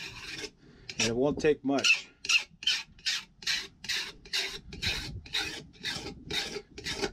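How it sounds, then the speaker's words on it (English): A small flat file rasps along the edge of a chainsaw bar to remove burrs, with a close, rhythmic series of about a dozen back-and-forth strokes, and brief speech near the start. "Just filing those little grooves on the outside of that bar"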